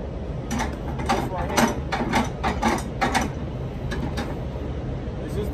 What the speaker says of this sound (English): It's just tightening it down, y'all.